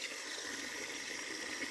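Water runs steadily along a garden irrigation channel into a storage pond, a continuous broad splashing rush at close range, even in level and uninterrupted.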